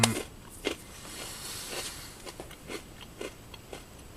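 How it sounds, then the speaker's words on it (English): Crunchy barbecue-flavored snack puffs from an MRE being bitten and chewed close to the mic, a series of soft dry crunches spread irregularly over a few seconds with no talking. "Can you hear me crunching? They're nice and crunchy."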